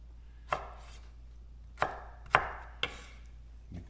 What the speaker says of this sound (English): So I'm going to cut my tomato down so it's a little more manageable.